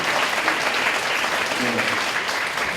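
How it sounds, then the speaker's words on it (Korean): A church congregation of young adults at Onnuri Church's Haneul college group claps in encouragement: steady, dense applause holding at an even level from start to finish, filling the room without a break. "우리 서로에게 정말로 너가 자랑스럽다 하는 마음으로 우리 격려의 박수 한번 드리면 좋을 것 같습니다"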